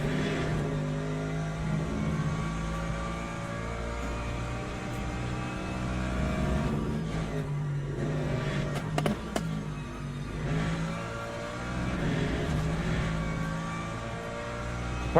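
Race car engines in Le Mans Ultimate drone and rev continuously at a faint level. Gear changes and the pitch shifts of passing cars come and go, with no voices present.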